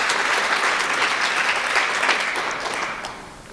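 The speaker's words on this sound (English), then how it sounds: "you can applaud" Audience applause at a school's State of the School event fills the room with steady, dense clapping that stays loud throughout and tapers slightly toward the end.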